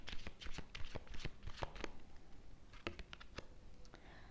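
Tarot cards are shuffled close up in quick, crisp bursts of riffling and flicking, a soft papery patter that repeats in bunches with short pauses between, quiet and alone.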